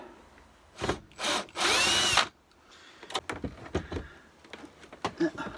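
A power drill backs screws out of an RV hallway wall in a few short whirring bursts, with one longer run. Quieter knocks and handling clatter follow.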